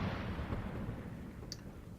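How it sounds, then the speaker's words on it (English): An explosion sample triggered from the Impact drum sampler in Studio One, a loud, sustained rumbling blast that dominates the clip and slowly decays, with no voices. "But I have the explosion."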